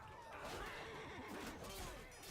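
A horse neighs in the Talespire tabletop game, a game-sound whinny that rises and falls over about two seconds at steady, moderate loudness.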